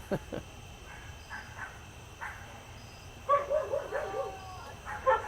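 Dogs bark at a distance outdoors over a steady night-time hum of crickets, with a few scattered bursts and then a longer run of barking toward the end.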